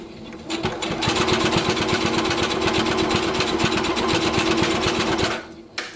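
A sewing machine runs a basting line along fabric for a welt pocket, a steady close mechanical chatter with rapid regular needle strokes lasting about five seconds before it stops.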